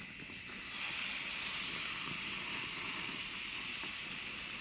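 A tomahawk cowboy ribeye steak sears on an RV grill with a loud, steady hiss that swells after a brief quieter start and holds evenly throughout, no voices.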